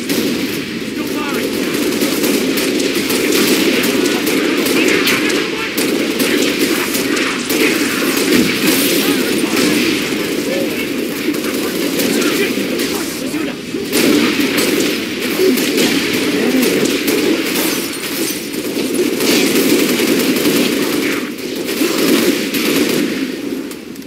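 Sustained rapid gunfire from the video game Halo Reach, a dense continuous barrage of automatic shots with booming impacts, loud and close throughout.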